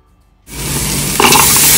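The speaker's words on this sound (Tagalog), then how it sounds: "Igigisa na natin yung ating luya." Ginger hits a hot pan ahead of onion and garlic for laing, with a sudden loud sizzle bursting up after a moment of quiet and holding strong and close, swelling briefly as more goes in.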